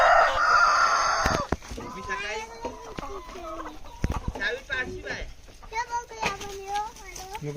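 A rooster crows loudly up close at the start, followed by scattered chicken clucks on a free-range village poultry farm, while people talk and call out around them.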